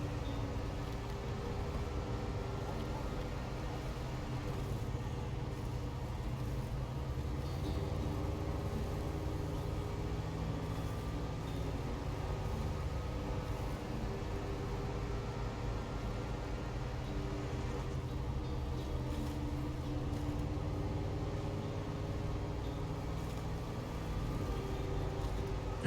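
A Rezvani Hercules truck's engine idles and runs steadily with a low, rumbling drone much like a Jeep. It holds a constant level throughout with no talking.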